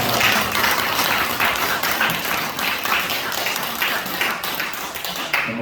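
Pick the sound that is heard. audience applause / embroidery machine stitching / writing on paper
audience applause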